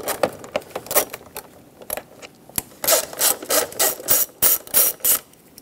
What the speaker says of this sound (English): once you unscrew them, just give them a few turns and that's it